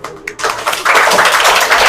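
Clapping from a gathering honoring selected NMMS scholarship students at a ceremony, starting with scattered taps and swelling into steady, dense applause that fills the room, with a voice briefly audible near the start.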